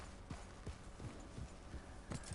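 Horse hooves clip-clop steadily, about six paced thuds, as a horse zigzags up and down a hill in the video game Red Dead Redemption 2, fairly close and alone without talk.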